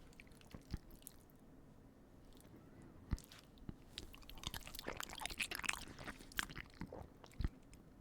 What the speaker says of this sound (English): Wow, that was a big bite that just got swallowed immediately.